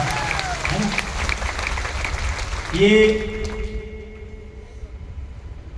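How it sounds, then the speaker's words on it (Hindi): Applause from an audience at a gathering fills the first three seconds, with a voice heard over the claps, then thins and fades out to near quiet. "ताली मर्दों वाली बजा लीजिए"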